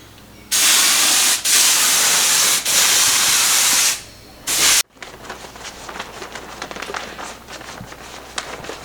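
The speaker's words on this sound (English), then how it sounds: "We're spraying a contact glue onto the metal studs" Contact glue sprays onto metal studs in loud hissing bursts, several long blasts separated by short pauses, followed by quieter shuffling and handling noises.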